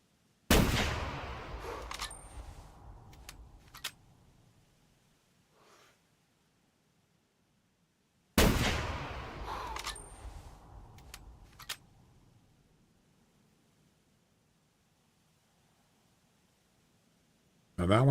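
Rifle shots fired at animals in a hunting video game: three loud, sharp blasts roughly eight seconds apart, each followed by a long echoing decay, with quieter sounds in between.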